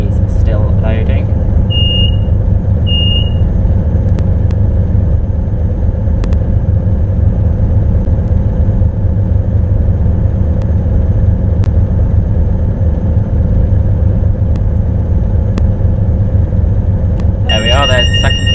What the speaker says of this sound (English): There's the second alarm, so I'm going to cancel that now